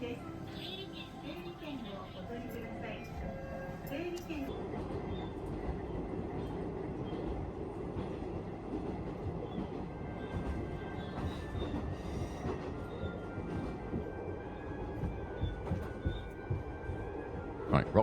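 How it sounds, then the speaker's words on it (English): A train in Japan rumbles past at a steady roar, with rolling wheel noise and some metallic squeal, moderately close, while people talk throughout. "And here's our train."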